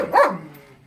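A single short dog bark from a hybrid dog being tested during training, loud and close, with a brief tail fading into room noise.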